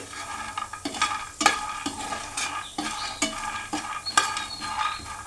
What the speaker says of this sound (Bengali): তো বাদামটা ততক্ষণে আমি ভেজে নিই, ভেজে আবারও আসতেছি।